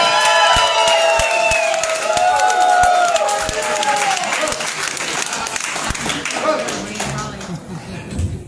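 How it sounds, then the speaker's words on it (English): A bar-and-grill crowd applauds a comedian, with dense clapping and a few cheers that gradually fade. Someone speaks over the clapping, which thins out toward the end. "So please give him a warm round of applause."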